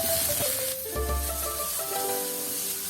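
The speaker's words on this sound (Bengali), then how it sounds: "পেঁয়াজকেও কয়েক সেকেন্ড নাড়াচাড়া করে নিচ্ছি।" Chopped onions stir-fried in a hot wok for chicken chowmein, a soft sizzle with scraping stirring strokes and faint clinks, fairly quiet and close.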